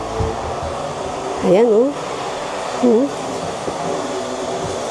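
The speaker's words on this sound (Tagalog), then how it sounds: "Naayos ko yung vacuum namin." A household vacuum cleaner, just cleaned and repaired, runs with a steady close whirring roar as someone speaks two brief exclamations over it.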